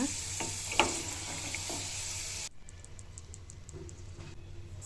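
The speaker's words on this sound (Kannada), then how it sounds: "ಈಗ ಕಡಲೆ ಬೀಜ ಫ್ರೈ ಮಾಡ್ಕೊಂಡು ತೆಕ್ಕೊಂಬಿಡಬೇಕು" Peanuts fry in oil in a kadai for spicy garlic rice, a close, busy sizzle with stirring clinks that abruptly drops to a quieter crackle halfway through.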